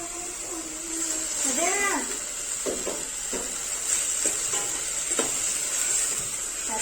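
Homemade masala, turmeric powder and garam masala powder are stirred into frying chhole masala, giving a steady close sizzle with soft scraping strokes and a brief voice early on.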